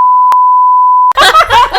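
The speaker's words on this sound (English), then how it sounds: "beeping that out." A steady, loud single-tone censor bleep runs for about a second, briefly interrupted by a short dropout, before voices and chuckling burst in right after it cuts off.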